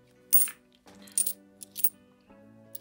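Ukrainian 1 hryvnia coins dropping and clinking as they are sorted by hand from a bank bag, with a few distinct metallic jingles and clatters spaced out over a quiet background.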